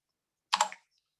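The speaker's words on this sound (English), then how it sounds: "I can, you know, type another one here" Short burst of typing on a computer keyboard, a quick cluster of close keystrokes lasting about a quarter second, then quiet.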